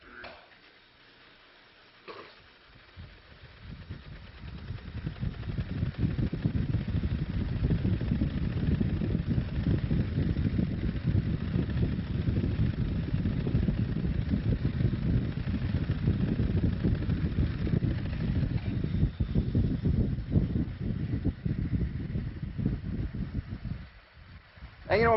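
A gyroscope wheel spins up into a steady low whirring rumble that builds within a few seconds, holds evenly for about twenty seconds, then cuts off.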